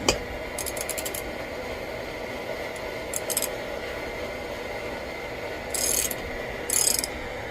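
Ratchet with a 9/16 socket tightening a vise, a steady mechanical clicking in short bursts over a constant background hum, close and fairly loud, no talking.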